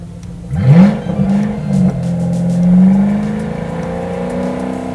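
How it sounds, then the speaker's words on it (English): A car engine revs hard with a loud, throaty exhaust roar, then settles into a sustained rumbling drone. "If you want something on the track a little more throaty, you just hit the exhaust."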